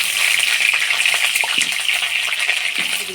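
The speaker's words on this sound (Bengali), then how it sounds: "এবার মাংসের আলুর জন্য আলুগুলা ভেজে নেব" Potatoes for chicken curry frying in a pan, giving a steady, fairly loud hiss with light crackle running throughout, no voices.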